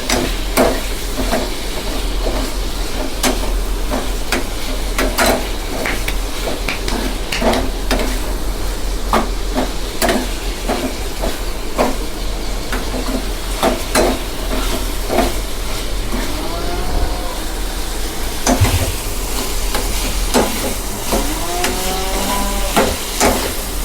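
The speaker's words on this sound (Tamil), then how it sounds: "எண்ணெய் விட்டு அதில் வந்து வெங்காயம், தக்காளி, இஞ்சி இது மட்டும் சேர்த்துருக்குறேன்." Onion, tomato and ginger sautéing in oil in a pan, with a constant sizzle and frequent sharp scrapes and clinks of a stirring spoon throughout, close and fairly loud.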